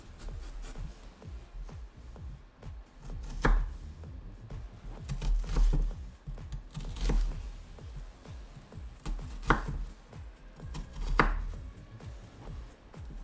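A knife cuts vegetables on a cutting board while guacamole is prepared, with sparse, soft taps and slicing strokes spread out over a quiet background.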